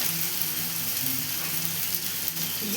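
Spices with turmeric and chili powder fry in a pan for banana stem curry, a continuous moderate sizzle with faint crackling throughout.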